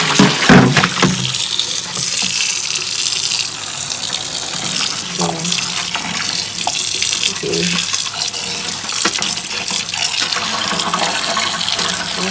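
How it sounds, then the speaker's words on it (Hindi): Tap water runs steadily into a sink while phalsa berries are washed, a continuous close gush with small splashes and clatters. "फालसा हमारा हो गया धुल गया।"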